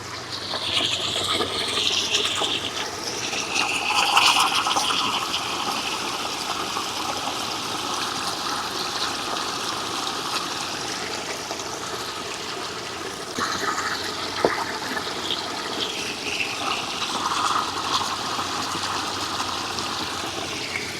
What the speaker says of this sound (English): So you can tell my feet are in the water